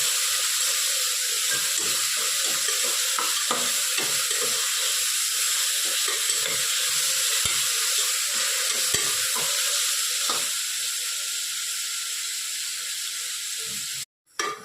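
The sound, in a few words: mint and coriander sautéing in pan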